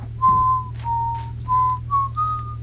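A person whistles a short five-note tune imitating a guard's whistle from the stealth game Thief Gold. The notes are clear and evenly spaced over a steady low hum.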